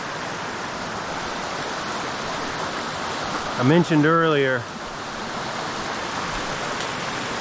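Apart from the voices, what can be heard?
roaring creek water in Great Smoky Mountains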